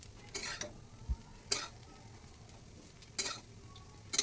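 A spoon stirs and scrapes a semolina and milk mixture with coconut powder in a pan, heard as four or five short, separate scraping strokes over a faint, quiet background with no voices.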